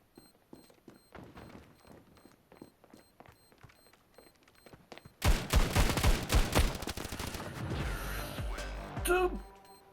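Quiet clicking and tapping gives way to a sudden, dense barrage of loud Desert Eagle pistol gunshots in Standoff 2, rapid and overlapping, continuing for several seconds before cutting off.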